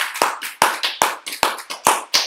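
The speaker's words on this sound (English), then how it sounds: "Let's give the Lord another hand clap of praise today." A church congregation claps hands in praise, about eight loud, sharp claps landing in a quick uneven rhythm, close and alone.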